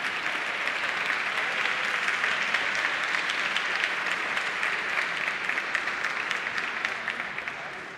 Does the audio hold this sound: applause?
yes